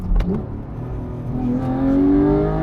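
A Porsche 991.2 GT3 flat-six engine gives a quick throttle blip on a downshift, a short rising rev flare near the start that settles into a steady, climbing engine drone heard from inside the car.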